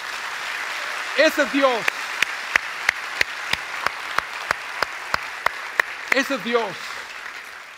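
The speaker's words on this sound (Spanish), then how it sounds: "¿Le puedo dar un aplauso a Dios?" Evenly spaced, crisp claps beat a slow steady rhythm through a Spanish-language church sermon, while a voice speaks briefly at the start and again near the end.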